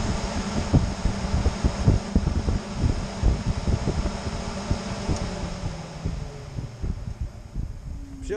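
UAZ Patriot radiator cooling fan switched on and running with a steady whirring rush, continuous and fairly close, with faint low thumps and rustling underneath and no speech.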